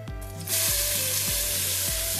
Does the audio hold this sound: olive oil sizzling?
yes